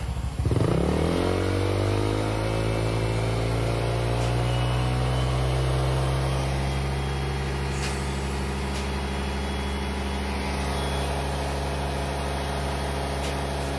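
A remapped Honda Click scooter engine revs up quickly and then holds a loud, steady high-RPM drone close by, with no talk over it.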